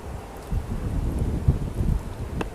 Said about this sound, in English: It is breezy from that direction today.